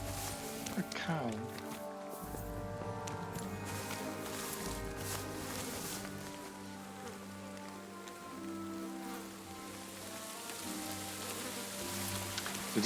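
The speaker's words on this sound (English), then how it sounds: "So this is rain, so now I switch to this." Rain falls in the Trotky region of Kingdom Come: Deliverance 2, a quiet, steady patter of drops on surfaces. It runs continuously for about thirteen seconds beneath soft, sustained in-game tones.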